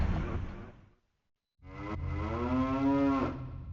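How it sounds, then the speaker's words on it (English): A cow in the Ocarina of Time Randomiser game moos loudly and up close, one long drawn-out low call after a brief silence, preceded by a fading whoosh. "I still can't get over the cow sound"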